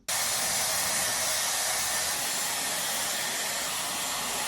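Hair dryer blowing on hair, switched on at the start and then running as a loud, steady, close whoosh of airflow with no voices.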